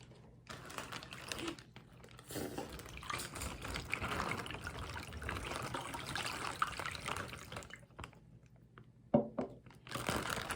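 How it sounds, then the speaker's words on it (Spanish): Water poured into a plastic bag, a rustling, splashy trickle mixed with crinkling plastic handling, fairly quiet and continuous with brief pauses near the end. "vaciar un poquito de agua en nuestra bolsa"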